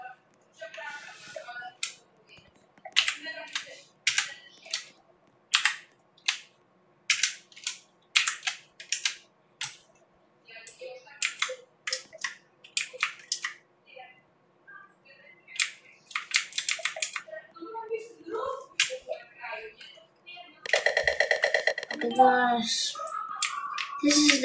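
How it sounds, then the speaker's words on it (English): Typing on a computer keyboard comes in quick bursts of sharp clicks with short pauses between runs, close and fairly loud, followed near the end by a brief louder burst of other noise. "I'm just typing"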